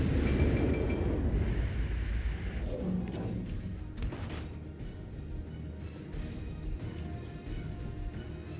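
Warship main guns in World of Warships Legends firing at a battleship, a heavy booming salvo at the start followed by rumbling echoes and a few duller thuds as the shells travel.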